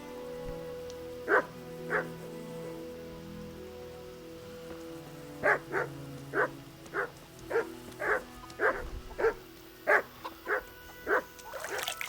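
Dog barking in the medieval game Kingdom Come: Deliverance, a run of sharp, evenly spaced barks, two at first, then a steady burst of about a dozen, fairly close over a soft ambient background.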